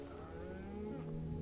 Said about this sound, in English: There's some cows.